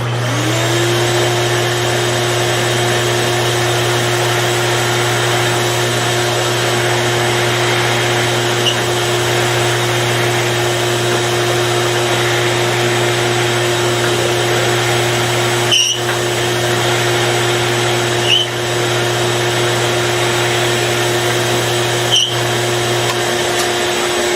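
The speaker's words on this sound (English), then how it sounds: "And turn on the vacuum." A vacuum runs in a bowling ball drilling room, giving a loud, steady drone that holds unchanged for the whole stretch, broken only by a few faint clicks near the end.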